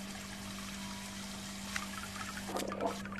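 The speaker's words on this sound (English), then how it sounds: "I'm just gonna get a cup of water" Water is poured into a cup in a kitchen, a soft steady trickle that swells into a brief splashy fill near the end, heard alone at close range.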